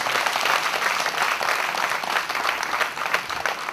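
Sustained applause from a large audience at a political event for an election candidacy in 2010, dense steady clapping throughout.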